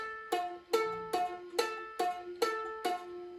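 Fingerpicked guitar pattern from a song, thumb and finger alternating: about seven evenly spaced plucked notes ringing close and clear, alone without voices.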